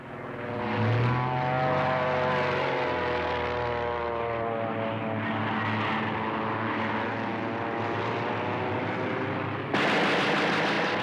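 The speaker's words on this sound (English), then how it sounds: "It's just another spy plane." A propeller spy plane drones overhead in an animated war film set in wartime Japan, a loud steady engine roar with wavering harmonic tones that holds for the whole stretch, swelling sharply near the end, with no talk.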